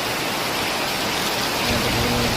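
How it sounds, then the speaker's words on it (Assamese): Heavy rain pours down in the small hours of the night, a dense, unbroken hiss of downpour, loud and steady throughout with no voices. "বৰ্তমান পূৰা বৰষুণ দি আছে, পূৰা ফাটাফাটি বৰষুণ"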